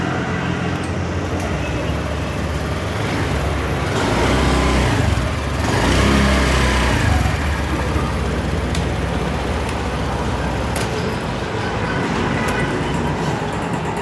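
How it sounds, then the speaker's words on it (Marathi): A 2025 Honda Activa 110 Deluxe scooter engine runs steadily with a loud, continuous hum that swells slightly for a few seconds mid-way, with no talking. "गाडीत तुम्हाला साऊंड पण ऐकून देतो."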